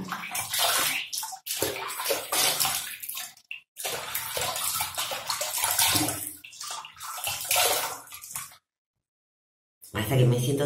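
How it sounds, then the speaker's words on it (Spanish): Splashing water while rinsing the face after a 20% glycolic acid peel: close, uneven splashes and running water in bursts, broken by brief pauses and a stretch of silence near the end. "Sigo enjuagando."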